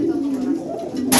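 Pigeon cooing close by in a loft, a mate-crazed male separated from his hen, heard as a low continuous warbling coo across the moment, ending in a brief burst of hiss.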